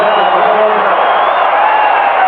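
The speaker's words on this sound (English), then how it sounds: "Listen to the crowd" American football stadium crowd roaring after an interception in a Michigan Panthers versus Los Angeles Express game, a loud dense sustained cheer with whoops, heard at a distance under broadband noise.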